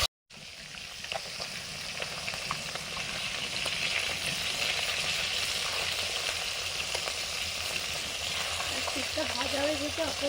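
Fish rubbed with salt and turmeric frying in hot oil in a home kitchen, a steady close sizzle that runs unbroken for about ten seconds, with a little stirring or turning toward the end.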